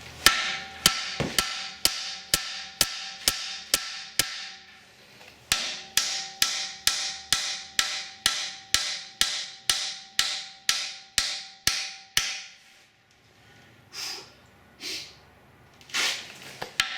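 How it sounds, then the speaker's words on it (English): A hammer strikes metal in quick, evenly spaced ringing blows during strut replacement on a 2011 Cadillac SRX, about two dozen loud, close hits in two runs with a brief pause between, followed by quieter rustling. "Makes it easier for me to swing the hammer on this side."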